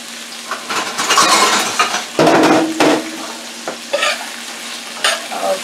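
Steak being stirred in a hot frying pan, a steady loud sizzle with scraping and clinking of a utensil against the pan, bursts of stirring in uneven strokes, close up with no talking.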